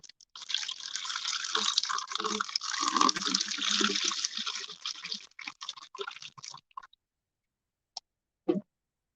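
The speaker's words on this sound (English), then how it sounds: "So we're just pouring some water inside of our bowl." Water is poured into a bowl before lime is mixed in, making a steady, fairly close splashing stream for about six seconds, followed by a couple of brief drips after a pause.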